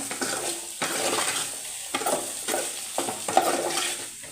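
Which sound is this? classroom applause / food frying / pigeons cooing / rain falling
food frying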